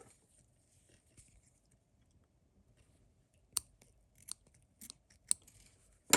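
Scissors snip small pearl mylar cord in several sharp, separate clicks, close and clear against a quiet background after a near-silent stretch.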